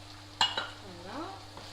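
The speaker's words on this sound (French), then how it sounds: "la viande, elle commence à cuire, à bien cuire" Ground beef for lasagne cooking and being stirred in a pan, with a soft steady sizzle, a quick utensil knock or scrape near the start, and a faint tonal whine riding over the frying.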